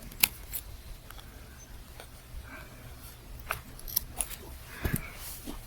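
Scissors snipping knitting sock yarn, leaving a short two-inch tail, heard as a few faint, brief clicks and snips scattered over a quiet room background.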